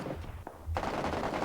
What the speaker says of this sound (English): firefight going on that's very close